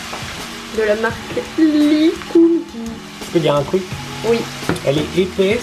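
Mushrooms and onions sizzling and crackling in a hot pan, a steady frying hiss with stirring scrapes beneath a voice speaking close by.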